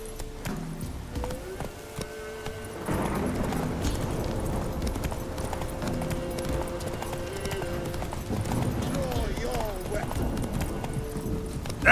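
Roach, the horse in The Witcher 3, gallops with rapid, steady clip-clopping hooves alongside a loud game soundtrack and ambience, and a voice briefly calls out over it.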